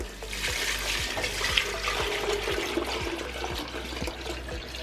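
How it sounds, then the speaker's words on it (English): Turkey stock pours into a soup pot as a continuous, close liquid rush and splash, with faint regular low ticks beneath it and no talking. "now what I'm gonna do is pour in some of the turkey stock"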